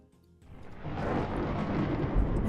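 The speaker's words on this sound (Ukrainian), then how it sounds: "Вибух!" A video game explosion erupts as a deep, rumbling roar, swelling quickly from near-silence into a sustained, loud low boom that holds to the end.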